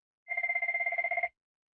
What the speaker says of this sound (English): Sounds like you got another phone ringing in the background.